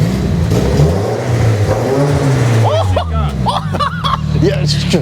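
A Nissan SR20 engine revs hard in loud, repeated bursts nearby, with excited voices talking and exclaiming over it.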